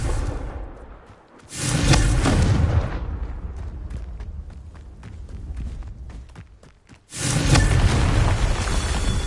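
Confringo fire spells burst in the video game Hogwarts Legacy, with two loud, roaring explosions framing a stretch of quieter crackling impacts and footstep-like thuds, heard alone without speech.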